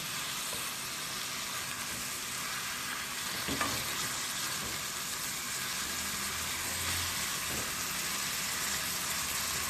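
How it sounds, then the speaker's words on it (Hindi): Onions frying in a pan for biryani, cooked only until their colour changes: a steady, soft sizzle runs throughout with a few faint stirring scrapes, no voices. "अब हम इन प्याज़ों को इतना कुक करेंगे कि इनका कलर चेंज हो जाए।"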